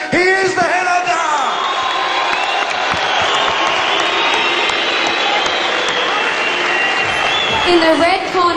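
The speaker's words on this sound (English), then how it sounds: "let's give him a big round of applause from the land of warriors" A large crowd at a kickboxing world title event applauds and cheers steadily for the fighter called the Headhunter, a dense wash of clapping under an announcer's voice.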